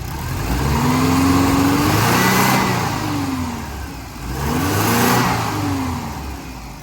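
A built, turbocharged Subaru WRX at operating temperature revs loudly twice in a row, each pull rising in pitch and then falling back, with a harsh exhaust roar close by.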